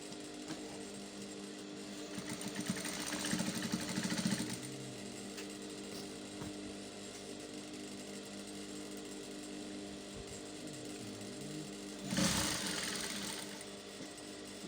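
A sewing machine stitches a shirt dress sleeve to the shoulder in short bursts: a louder run of whirring around the start, quiet handling between, then another brief burst near the end, with no talking.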